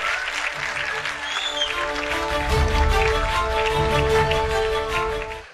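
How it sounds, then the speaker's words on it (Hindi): A crowd applauds loudly and steadily at a TV9 WITT 2025 summit, welcoming Pandit Dhirendra Shastri of Bageshwar Dham onto the stage, with stage music running underneath and the clapping swelling stronger midway. "तालियां रुकनी नहीं चाहिए, जोरदार तालियों से स्वागत करिए आप।"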